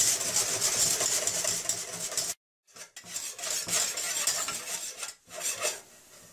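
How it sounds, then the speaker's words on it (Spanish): Butter and wheat flour whisked vigorously together in a pot, giving a steady close metallic scraping and rubbing with brief pauses, no voices. "ponemos la harina de trigo. Y batimos enérgicamente."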